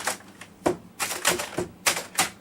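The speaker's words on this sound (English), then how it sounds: "I'm gonna break that piece of junk keyboard one of these days" A computer keyboard is struck hard, giving a quick burst of sharp, loud plastic clacks in an uneven rhythm, close up, with no talking.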